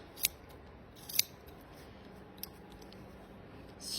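Scissors snipping strands for a kids' bookmark, two crisp close cuts in quick succession followed by a fainter third snip, over quiet room noise.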